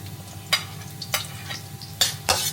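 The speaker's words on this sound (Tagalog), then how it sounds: "igigisa lang natin itong bawang at saka sibuyas dito sa mainit na mantika" Garlic and onion sautéing in hot oil for pansit bihon, a soft frying hiss broken by four sharp scraping stirs of a utensil against the pan, close and with no talking.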